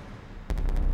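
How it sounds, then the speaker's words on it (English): In the video game FEAR 2: Project Origin, a sudden deep explosion booms from across the city, cutting in abruptly after a quiet hiss and followed by a rumbling, rattling tail. "I think that was the explosion across the city."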